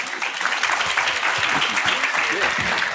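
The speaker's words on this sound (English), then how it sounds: "A big hand of applause here." An audience at a NAHREP Dallas event gives a speaker a dense, steady round of applause that holds at even loudness throughout, with voices mixed in beneath the clapping.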